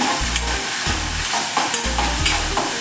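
Okra and green chillies sauté in hot oil in a pan for a Navratri fasting dish, loud close sizzling broken by rhythmic spatula scrapes and stirring strokes roughly every half second, no talking.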